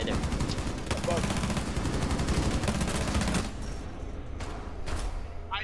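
Rapid bursts of gunfire in the tactical shooter Rainbow Six Siege, dense and continuous for several seconds, then quieter scattered shots, with a player's voice talking over the action.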